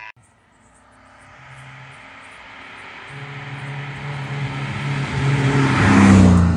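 An MGB GT V8 rally car on a stage of the Tour de Corse Historique, its engine note rising steadily as it approaches and grows louder, building to a loud close pass near the end.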